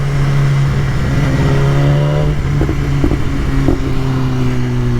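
A 200 hp motorcycle of about 195 kg accelerates hard out on the road, its loud engine note climbing with quick, clean quickshifter gear changes breaking the pull as the revs rise and fall.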